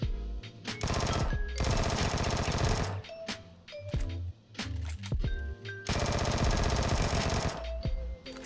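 Automatic gunfire at night in PUBG: long sustained bursts of rapid shots, loud and close, separated by brief pauses and a few single cracks.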